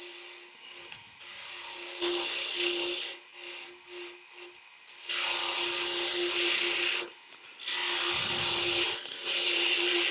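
Wood lathe turning a small Laburnum hardwood bowl, the tool cutting out the centre in repeated bursts of hissing, scraping tone that start and stop, some longer, with a steady motor hum between passes.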